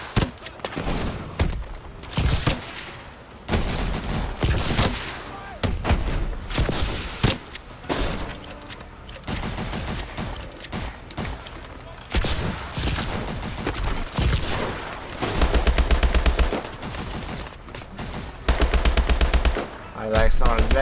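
Rapid automatic gunfire in Call of Duty: Advanced Warfare comes in repeated bursts of sharp shots with thuds and explosions mixed in, loud and close over game audio.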